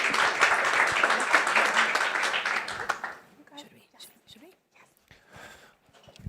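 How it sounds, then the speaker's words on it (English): An audience applauds in a forum hall, a dense, loud clatter of many hands for about three seconds before it thins out into scattered claps, shuffling and low voices. "Give them a round of applause."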